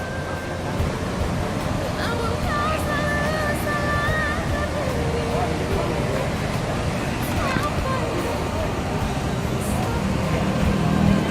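An Arjuna bus pulls away from Pondok Pinang terminal, its engine rumbling steadily up close beneath traffic noise, with people chatting throughout.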